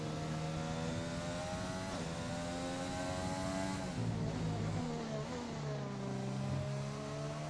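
A Renault race car in a racing video game roars through a lap on the Mexico Grand Prix circuit, its engine holding a loud, steady high-revving whine with gear shifts and pitch dips, close and continuous with no talk.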